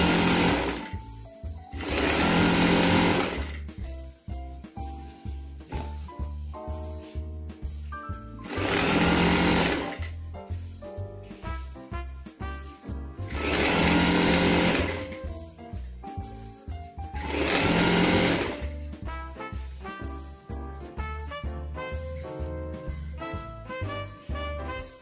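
Sewing machine stitching a hem on a night gown: loud, close mechanical whirring in several sustained runs, with clicks and fabric handling in the pauses between.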